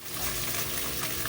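Tilapia sizzles steadily in a frying pan, with a dense, close, continuous crackle that swells slightly after the start and carries no talk.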